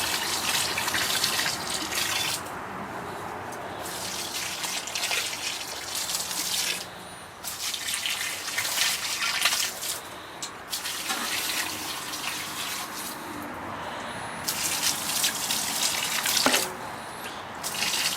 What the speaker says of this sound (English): all I'm going to do is I'm just going to water them in